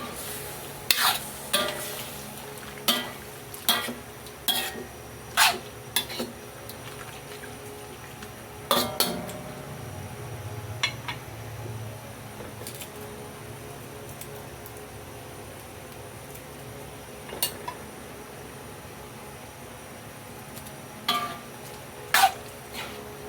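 Igado, a Filipino pork dish, stirred in a pan with a series of sharp scraping and clanking utensil strikes over a faint sizzle, then quieter stretches as the pan is covered, with a couple of late clinks.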